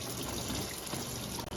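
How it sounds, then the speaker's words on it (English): Tap water runs steadily into a cooking pot in a home kitchen sink, a close, continuous broadband gush without pause, filling the pot for boiling asparagus. "we're going to add the water to the pot for our asparagus"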